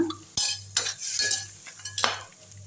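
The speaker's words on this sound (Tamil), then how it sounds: "நல்லா கலக்கி விட்டுருங்க" A utensil scrapes and clinks against a pot of white chickpea curry in uneven strokes, with a soft sizzle underneath and brief knocks against the metal.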